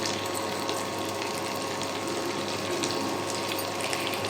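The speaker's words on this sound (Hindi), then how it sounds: "बस अब इसमें ऐड करते हैं थोड़ा सा पानी।" Water pours steadily and continuously into a cooking pan of chicken bhuna masala, a constant close rushing splash with no talking.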